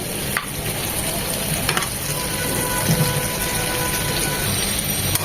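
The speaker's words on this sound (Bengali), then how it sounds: "চার পাঁচ মিনিট ভেজে নেব জাস্ট একটু লাল লাল হবে" Thick pumpkin pieces fry in a pan for fish curry, making a steady close sizzle with a few brief stirring clicks and no talking.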